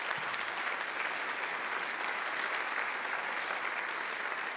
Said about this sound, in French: On peut les applaudir bien fort,